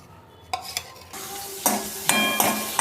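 Cloves and spices frying in ghee in a pan for coconut rice, a crackling sizzle broken by several sharp metallic scrapes and stirring knocks, building louder toward the end.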